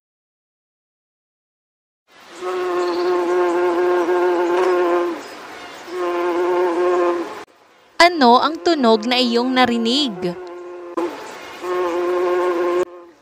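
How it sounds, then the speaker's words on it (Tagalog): A bee buzzes in two steady, droning bursts with a short pause between them. A voice then asks a question, and the buzzing returns afterward. "Tama, ito ay tunog ng bubuyog."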